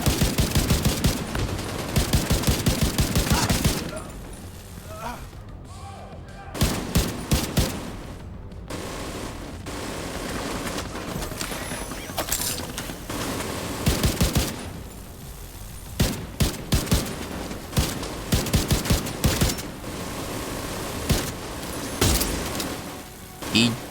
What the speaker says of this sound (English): My turret just straight up shot at nothing.